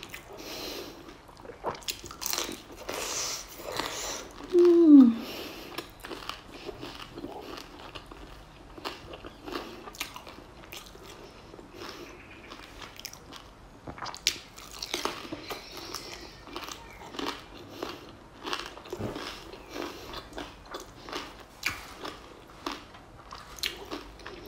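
Crisp bites into a fried Vietnamese rice dumpling filled with sticky rice and pork, with crunches and chewing scattered through a long quiet stretch and one louder bite near the start.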